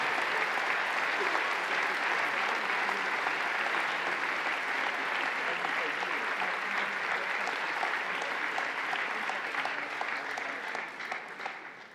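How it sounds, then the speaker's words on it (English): Sustained applause from a large audience at a prizegiving ceremony for an international chamber choir competition in Marktoberdorf, a dense, even clatter of many hands that holds steady and fades toward the end. "They earn this applause, really, and I want to join this applause"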